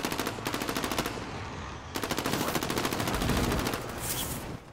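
Bursts of rapid automatic gunfire from the Call of Duty Warzone video game, two long loud rattling strings separated by a brief pause, with a fainter tail near the end.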